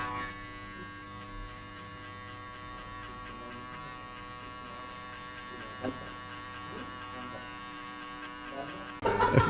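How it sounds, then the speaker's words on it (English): An electric hair clipper buzzes steadily through a zero high fade haircut, a constant close hum with faint background sounds and a brief louder rustle near the end. "I will open the clipper to the end and I will jump with 1 centimeter here"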